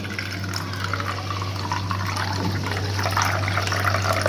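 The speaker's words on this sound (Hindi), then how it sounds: "पानी डालेंगे" Water poured into tamarind pulp for chana chaat makes a steady, moderately loud splashing and trickling stream that builds slightly toward the end, with a constant low hum underneath.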